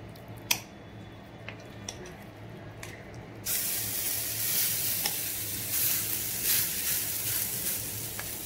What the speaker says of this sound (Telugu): ఇదిగమ్మా ఆయిల్ వేసుకున్నాము చూడండి, పెనం ఇలా పెట్టుకున్నాము అమ్మా